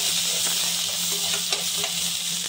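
Dry dates and almonds sizzle and fry in a pan for a sweet sheer kurma, a steady bright crackle running throughout, with occasional stirring scrapes and no talking.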